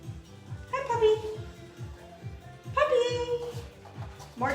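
A puppy gives two high, whining yelps a couple of seconds apart over loud, steady workout music with a thumping beat.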